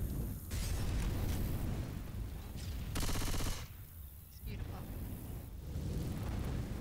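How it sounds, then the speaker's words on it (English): Dense rapid gunfire and booming explosions from a video game, nearly continuous and loud, with a brief voice speaking over the chaos. "So many explosions."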